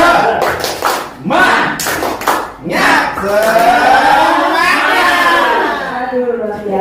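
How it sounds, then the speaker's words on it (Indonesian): A room of teachers performing the tepuk semangat routine: a few loud, rhythmic bursts of group clapping, then the crowd chanting together in unison, close and energetic. "Tepuk semangat."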